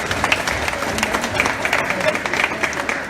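An audience claps at a crèche inauguration in Beaucaire, a lively burst of applause with distinct hand claps standing out over a crowd murmur and some voices.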